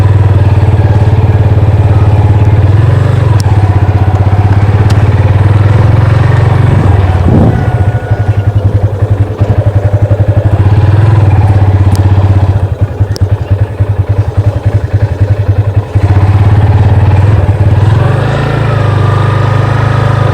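A Yamaha FZ25 motorcycle engine running at idle, a loud, close, steady low throbbing rumble with a brief rev partway through and some mechanical clatter.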